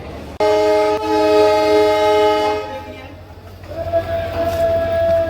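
A new train pulling out of Rameswaram sounds a long, loud horn blast that holds steady for a couple of seconds, then a second, thinner horn tone rises over a rumbling background of rail noise.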